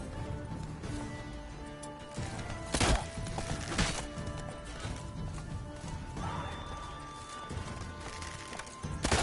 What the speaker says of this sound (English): Wow, he just rode over me with his horse.